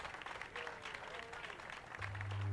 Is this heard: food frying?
no